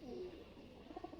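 Pakistani high flyer pigeons coo softly in a brief low murmur against a steady background hiss, with a couple of slightly stronger rolling coos near the end.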